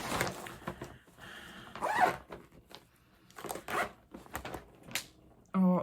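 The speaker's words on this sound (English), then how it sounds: "I did the zipper again." A clothing zipper is pulled in several short, scratchy bursts, close and moderately loud, with pauses in between and a brief thump at the end.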